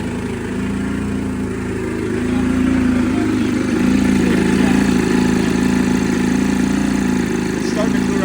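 A smoky 1987 EZGO three-wheeler golf cart engine with a carburetor in need of work runs steadily, a loud continuous idle drone with low rumbling harmonics that swells slightly partway through.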